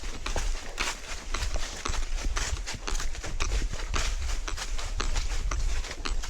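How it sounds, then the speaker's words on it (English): Horses walk along a sandy outdoor trail, their hooves making a steady, close rhythmic clip-clop that continues throughout, with rustling and some faint talk mixed in. "Oh my gosh, horses."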